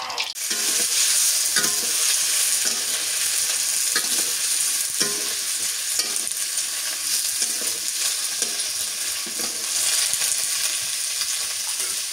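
Papaya pieces frying in soybean oil with black cumin seeds, a continuous close sizzle with frequent stirring scrapes and spatula knocks throughout.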